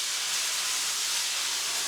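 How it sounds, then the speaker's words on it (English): Water steams under a lid in a covered pan of melting cheese, giving a steady, close, unbroken hiss. "I'm going to add a little water to steam, put my lid on, let my cheese melt"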